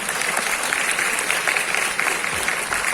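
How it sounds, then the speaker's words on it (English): Audience applause at a law university orientation, a steady sustained patter of many hands clapping throughout, moderately loud and filling the hall. "let us give another round of applause to them"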